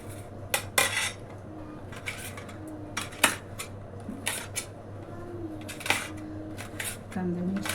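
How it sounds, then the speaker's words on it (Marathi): Onions and chillies cut in a home kitchen, with repeated sharp knife clicks and clatter of utensils in uneven bursts, close and fairly clear, over a low background hum. "कांदे मिरची कापून घेते"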